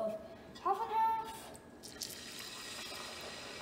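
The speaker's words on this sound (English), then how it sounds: "now we just pour in 1/4 cup of 1/2 and 1/2" Half and half poured into bubbling caramel sauce on the stove, a brief liquid splash and sizzle, fairly faint, with a person talking over it.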